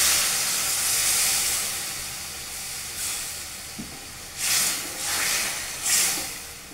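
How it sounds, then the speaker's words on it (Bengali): Water poured into a pan of cooking drumsticks (sajne danta) sets off a steady loud hiss and sizzle, with a few brief surges of steam, no talking. "এবার আমি একটু জল দিয়ে এটাকে সেদ্ধ হতে মিনিটখানেক সময় দেবো।"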